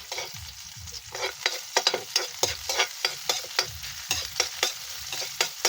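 Mushrooms fry and get stirred in a pan for a home-cooked Christmas dish, with irregular scraping spatula strokes over a soft sizzle, close and fairly loud, no talking.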